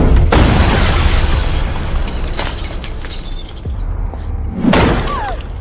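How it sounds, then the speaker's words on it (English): A car is smashed in a violent burst of shattering glass and crunching metal, followed by further loud bangs and breaking sounds, close and harsh throughout. "You smashed your sister's car over that woman's stupid painting?"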